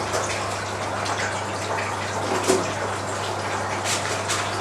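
Water sprays steadily from a cheap 12V mini pressure washer fed from a bucket, a continuous hissing gush with a faint low pump hum running underneath the whole time.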